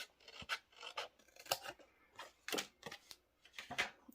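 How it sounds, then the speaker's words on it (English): Scissors cut card stock along a score line, heard as a series of close, crisp snips and rasping slices at an irregular rhythm, with short pauses between cuts. "So this side here I can cut right on the score line."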